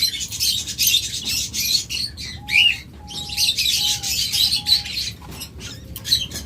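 Pet rainbow birds kept in pairs chirp and squawk continuously, close by. Their busy, overlapping calls are broken by a short repeated whistle-like note.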